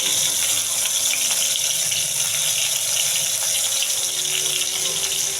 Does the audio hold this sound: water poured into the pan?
yes